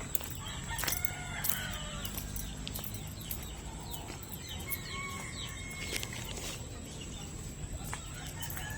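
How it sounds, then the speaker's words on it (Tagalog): Several chickens cluck and a rooster crows amid a busy outdoor farmyard, with steady background noise throughout. "Daming manok dito."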